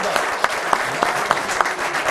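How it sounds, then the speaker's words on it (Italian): A live audience at a motorcycling federation event applauds steadily, with a few sharper individual claps standing out over the dense clapping. "Quindi un applauso"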